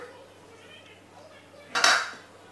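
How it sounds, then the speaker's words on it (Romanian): Potato dough for sbrisolona di patate being mixed by hand with an egg and 00 flour in a bowl, mostly quiet, then one short scrape and clink of a utensil against the bowl near the end. "Încep să amestec ușor."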